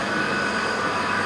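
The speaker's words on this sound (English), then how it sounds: "So it's a 4-cylinder diesel" A 4-cylinder diesel engine running on a dyno gives a loud, steady droning roar with a faint high whine, unbroken throughout.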